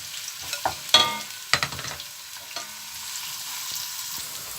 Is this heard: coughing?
no